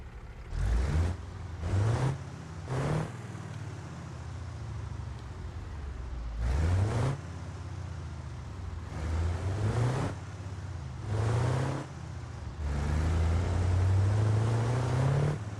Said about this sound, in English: And a new diesel V8.